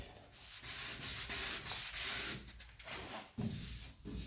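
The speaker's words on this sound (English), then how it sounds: "we still got to go in here and do some finger sanding." Steady rhythmic hand sanding on a 1957 Chevrolet Bel Air body panel, a harsh scratchy rasp repeating in short back-and-forth strokes, close and continuous.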